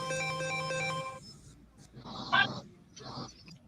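A mobile phone belonging to a boxer rings with a steady melodic ringtone for about a second, then cuts off and gives way to muffled voices talking.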